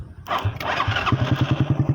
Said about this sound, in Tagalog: umandar na ang motor. Binaypas ko lang dito sa may starter relay.